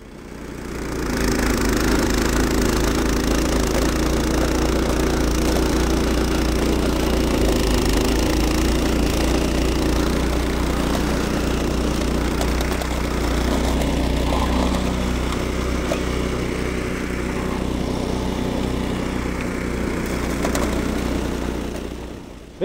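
Evoline Standard series two-stage snowblower, the smallest 560 model in first gear, clearing heavy piled snow; a steady, loud, close engine drone with mechanical rumble runs unbroken throughout with no talk.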